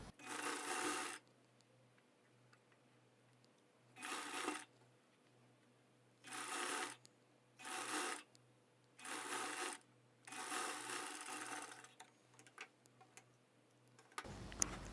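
Sewing machine stitching a shape belt in quick, fast-ticking bursts of about a second each, separated by short pauses, heard close and fairly quiet.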